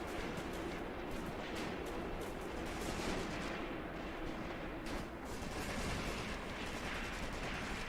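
Dense, continuous battlefield gunfire in the Graviteam Tactics war game, with MG42 machine guns firing amid other shots and distant blasts, a steady loud rattle with no pauses.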